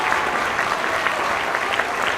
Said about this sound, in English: One more round of applause for all of our musicians this evening.